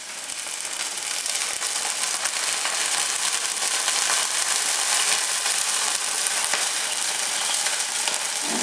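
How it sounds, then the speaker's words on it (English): Celery sizzles in a hot frying pan with a little water, a steady, bright continuous crackling hiss that swells slightly after the first second and holds without talk. "Next to celery. We're just going to sizzle a little bit"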